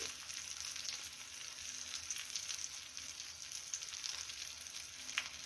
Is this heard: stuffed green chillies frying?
yes